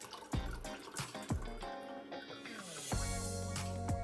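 Water from a freshly opened coconut spills out at home in a run of quiet drips and splashes, then a steadier trickling pour, close and faint.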